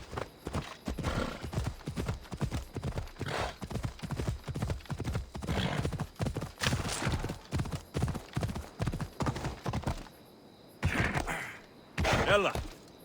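Hooves of a galloping horse in the video game Assassin's Creed Odyssey pound in a fast, steady rhythm for about ten seconds, then pause and resume briefly, loud and close, with a faint whinny and some low game sounds mixed in.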